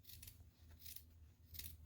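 Scissors trim stiff denim at the seams in three crisp, close snipping cuts spaced evenly apart, quiet overall with no talk.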